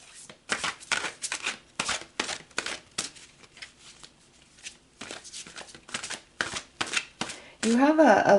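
Tarot cards shuffled by hand in close, rapid bursts of papery riffling and slapping with short pauses between, ending in a brief louder rustle.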